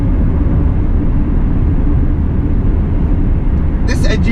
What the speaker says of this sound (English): This engine note is weird.